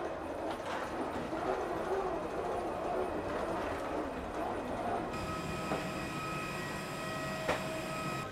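A passenger train passes on a trip in Thailand, with a continuous rolling clatter of wagons and thin, high wheel squeal over the rails, steady and moderately distant throughout.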